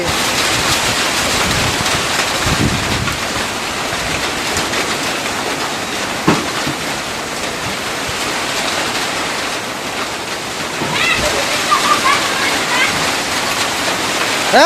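A strong cyclone wind with rain rushes loudly and steadily through a village, with brief knocks and a swell of gusting near the end, while someone speaks over it.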